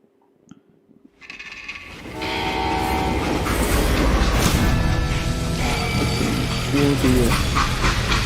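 A freight train rolls along in the Western game Call of Juarez: Gunslinger, starting from near silence and swelling into a loud, continuous rumble of rattling cars and clatter, with a brief horn-like tone near the end.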